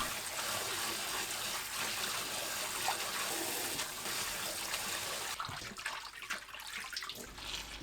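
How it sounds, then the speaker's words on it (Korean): Cold water runs steadily over blanched kale being rinsed, a constant close splashing stream that thins and turns choppier near the end as the greens are moved. "1분 후 찬물에 두세 번 헹굽니다."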